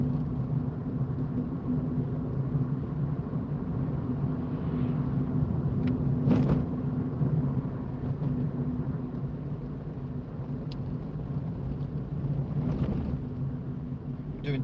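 A car's interior engine and road noise hum steadily as it drives slowly through a town street in Wigan, UK, a low continuous rumble with a couple of brief bumps, no talking.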